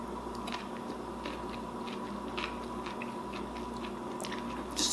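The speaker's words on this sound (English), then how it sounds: "I love the nice crunch." Crisp crunching of teeth biting into a home-canned Jamaican jerk pickle, a series of short snaps and chews close up over a steady low background hum.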